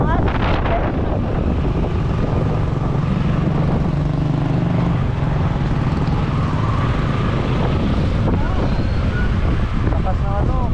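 Strong wind roars across a boat on a rough sea crossing, a loud continuous buffeting with engine drone beneath, and people talking throughout.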